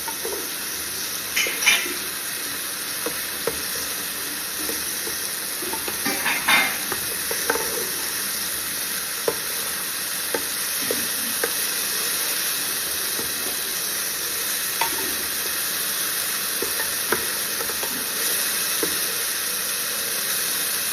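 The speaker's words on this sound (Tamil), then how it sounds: "இப்போ பொட்டேட்டோ போட்டோன்னே நல்லா பபுளா வரும். நம்ம இப்படி கிண்டிக்கிட்டே இருக்கணும்." Potatoes frying in a pan of bubbling oil, giving a steady dense sizzle and hiss with occasional scraping knocks as they are stirred, running on continuously at moderate loudness.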